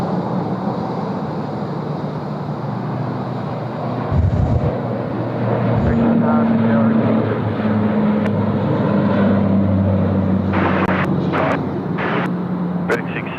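An aircraft, a Dash 8, takes off from runway 16 right at Sydney Airport, a loud steady engine roar that builds and holds throughout, with a rising tonal whine layered over it and a few sharp ticks near the end.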